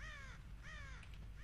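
Cartoonish crow caws sound in the Nintendo 64 platformer Conker's Bad Fur Day. Three hoarse calls come in a steady rhythm over a constant low background hum of the game.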